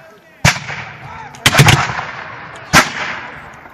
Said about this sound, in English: the British regulars coming up, they're getting ready to fire now.